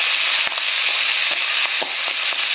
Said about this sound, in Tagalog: Now we are going to be adding the ginger because I don't like overcooked ginger.